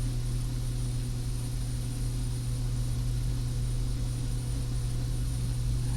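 Simulated Carenado B200 King Air turboprop engines in X-Plane 11 drone steadily through a takeoff roll, a constant loud hum with a strong low tone and broadband hiss.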